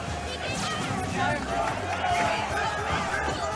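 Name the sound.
tournament crowd getting loud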